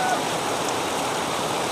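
Steady, dense rain falls outdoors near a livestock pen, a continuous broadband hiss with no pauses, fairly loud and close throughout.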